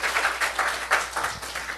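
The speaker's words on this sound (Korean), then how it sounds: "우리 하나님께 박수 올려드려요" A church congregation claps during a Sunday service, a short, steady patter of many hands at moderate distance with no voices over it.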